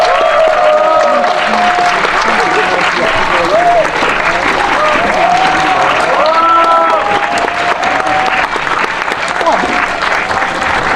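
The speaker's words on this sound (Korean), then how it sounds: "박수로 맞이해 주시기 바랍니다." Cinema audience at a special guest stage greeting for the film Dark Nuns applauding as cast and director come out, sustained loud clapping with scattered cheers and voices mixed in throughout.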